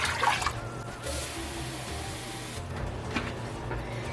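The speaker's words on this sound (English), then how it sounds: "I'm going to add the water." Water poured into a cooking pot on medium heat for borsch, a steady close rushing splash and trickle that holds evenly throughout with a slight surge near the start.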